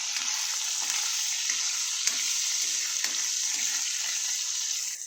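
Green chilies frying in oil with salt just added, stirred in a pan: loud steady sizzle with periodic scrape-like clicks of the spoon, close and continuous with no talk.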